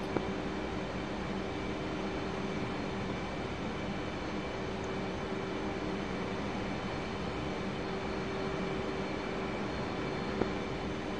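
Steady jet engine roar from a fighter in the DCS flight simulator during a formation training flight, a continuous broadband drone with a faint tonal whine holding level throughout, no voices.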